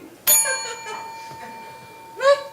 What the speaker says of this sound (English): every time a bell rings, an angel gets his wing